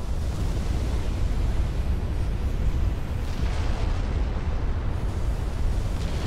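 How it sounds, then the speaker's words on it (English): A flash fire explosion erupts aboard a warship in the Ultimate Admiral Dreadnoughts naval game, a loud, sustained, rumbling roar with deep booming low end that continues unbroken for several seconds, heard alone. "Oh, flash fire."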